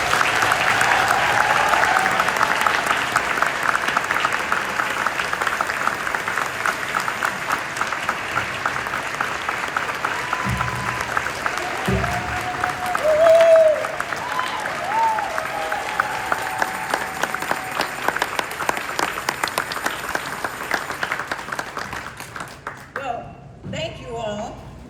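An audience at an Empire State University ceremony welcomes an honorary doctorate recipient with sustained, loud applause that carries on for many seconds, then fades as talk begins.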